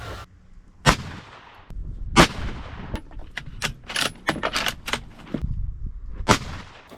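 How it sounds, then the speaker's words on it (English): Rifle shots fired through an EC Tuner muzzle brake at an outdoor range, around a dozen sharp, loud cracks at irregular intervals, some widely spaced and others in a quick cluster, with quiet gaps between. "Last but not least, we are shooting on number 9."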